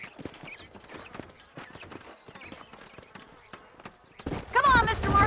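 Hooves of horses clip-clopping across open ground outside Armadillo in the video game Red Dead Redemption, a soft running rhythm that grows louder near the end, with voices talking over it.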